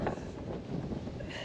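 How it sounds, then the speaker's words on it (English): Wind buffets the microphone in low, gusty rumbles, filling the whole short stretch with no other clear sound. "Sorry about the wind, it is quite windy up here again."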